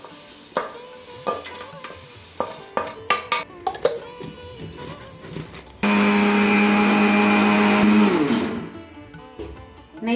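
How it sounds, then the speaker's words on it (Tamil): A mixer grinder powders roasted ingredients for coconut milk murukku, whirring loud and steady for about two seconds, then winding down, after a run of scattered clinks and scraping sounds. "இது சூடு ஆறணும்னா ஒரு மிக்ஸி ஜாரில் கொட்டி நல்லா பவுடராக நுணுக்கிக்குவோம்"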